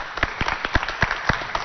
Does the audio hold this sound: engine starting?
no